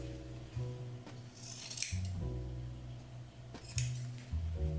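Scissors snipping fabric for the arm of a handmade Santa plushie, a few quiet close cuts with crisp metallic blade clicks, low in level with a faint tonal hum underneath.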